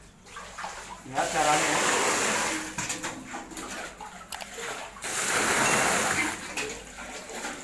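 Soybeans for tempe are rinsed in water, giving swirling, splashing surges that rise and fall twice, while someone speaks briefly over them.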